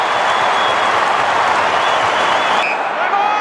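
Australian football crowd at an AFL match between Carlton and Fremantle roars and cheers steadily, a dense, loud wall of sound that cuts off abruptly near the end.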